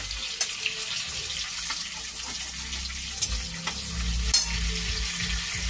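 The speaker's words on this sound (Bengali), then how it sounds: "এবার ফোড়নে দেবো এলাচ, লবঙ্গ, দারচিনি এটা দিয়ে দিলাম ফোড়নে" Whole cardamom, cloves and cinnamon sizzling in melted butter in a hot pan make a continuous crackling hiss with scattered sharp pops and a low rumble beneath.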